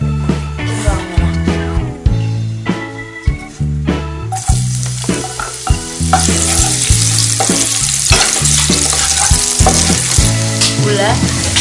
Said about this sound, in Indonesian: Kita panaskan minyak, lalu kita tumis bawang putih.